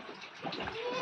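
Young goats bleating in a shed during rainy weather, a short close wavering cry over a damp, noisy background.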